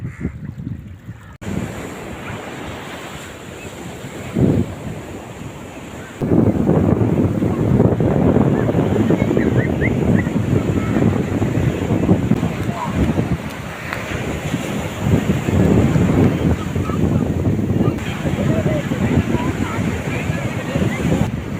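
Steady roar of Arabian Sea surf and wind at a harbour in Ponnani, loud and continuous, with gusts buffeting the microphone and faint voices in the background.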